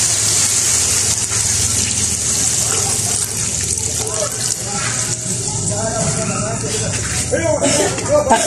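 Water is poured into a pot of cooking upo (bottle gourd), making a steady loud gushing that runs the whole time, with a voice talking over it.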